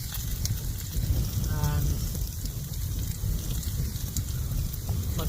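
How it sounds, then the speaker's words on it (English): Strong wind gusts buffet the microphone outdoors beside a camp stove cooking a burger, a heavy low rumbling roar that swells and fades, with brief speech. "Whoa! Comes the wind again."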